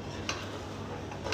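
Spoon scraping through a chicken biryani mixture with yogurt in a pot, soft steady stirring with a faint sizzle and a couple of light clinks against the metal.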